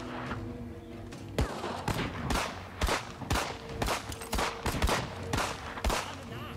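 Repeated gunfire in the World War II game Partisans 1941, a string of sharp, irregular shots cracking one after another over a steady background of battle noise.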